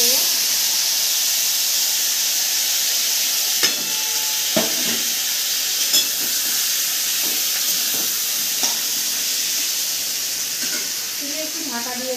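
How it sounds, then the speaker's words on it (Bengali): Chopped ash gourd hits a black cumin tempering in hot oil, setting off a steady loud sizzle and hiss with occasional stirring scrapes and clinks. "এবার আমি চাল কুমড়োটা ফোড়নের মধ্যেই দিয়ে দেবো।"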